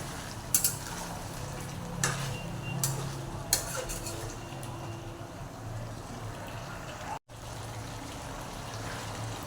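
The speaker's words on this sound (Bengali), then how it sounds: "মাংসটাকে কীভাবে কষিয়ে নিচ্ছি" Meat coated in yogurt is stirred and sautéed over high flame in a pan, a soft steady sizzle with scraping stirs and a few clinks, close up and continuous.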